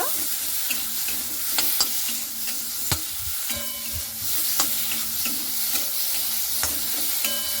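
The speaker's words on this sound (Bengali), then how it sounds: "এরপরে লবণ আর হলুদটা দিয়ে একটু ভালো মতো করে এইভাবে নাড়াচাড়া করে নেব।" Salt and turmeric being stirred into a frying breakfast mixture in a pan, a close, steady sizzle broken by repeated sharp scrapes and taps of the spatula against the pan.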